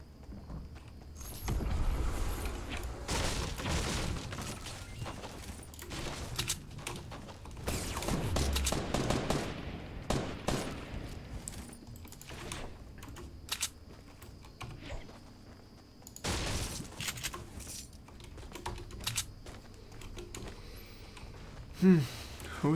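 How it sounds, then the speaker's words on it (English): Gunfire in the Fortnite video game comes in bursts of rapid shots, loud around the first ten seconds and again near sixteen seconds, with game sounds under someone talking throughout. "Who's Skizzle shooting at?"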